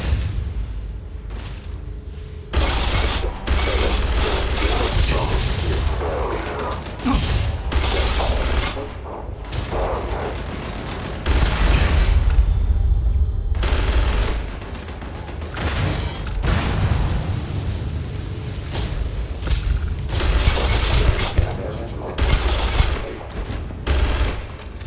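Sustained heavy gunfire in zero gravity in Starfield: long, dense stretches of rapid shots and booms, loud and close, broken by brief pauses.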